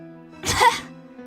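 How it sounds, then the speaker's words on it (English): A single sharp, harsh cough burst from a character in the Tsukihime visual novel, loud and close, standing alone against a quiet background tone. "She breaks out in a fit of coughing."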